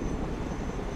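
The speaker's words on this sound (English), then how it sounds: "Helicopters are impressive machines. Boy, are they noisy." Helicopter noise in the video game Broken Arrow, a loud, dense, continuous engine and rotor roar that fills the moment without any speech.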